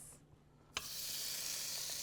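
Minced garlic dropped into a hot frying pan sets off a sudden sizzle after a quiet moment, which then holds as a steady, bright hiss close by, with no voices.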